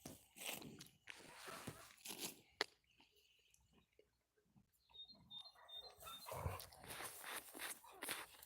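A dog barks and yelps in short bursts at close range, with chewing and crunching noises and some background commotion.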